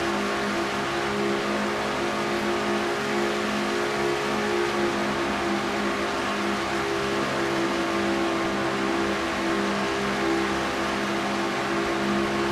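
A Ford stock car in a NASCAR racing video game drones steadily at high revs, a continuous, loud engine note heard from inside the car with no talk.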